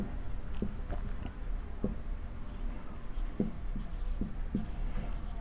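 Pen or pencil writing by hand on paper while working a class 12 calculus problem, a steady run of soft scratchy strokes with brief taps, close and fairly faint, with no talk over it.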